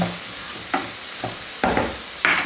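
A spoon stirs tomato and spices in a multicooker pot with a few loud scraping strokes over a faint sizzle, close and clear with no talking.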